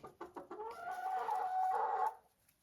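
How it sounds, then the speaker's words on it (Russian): A large hen, a good laying bird, gives a short run of quick clucks that rise into one drawn-out, nasal call, close and clear against a quiet background. "Это крупная курочка и очень хорошая несушка."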